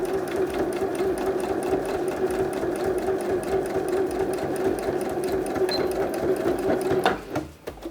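A sewing machine runs fast and steady while stitching fabric for an Easter basket, a close, continuous whirring hum with rapid needle ticks, then it slows and stops near the end.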